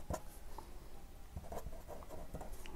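Handwriting scratches continuously across a surface during a physics lesson, a close, dry, rustling patter with small taps and no voices.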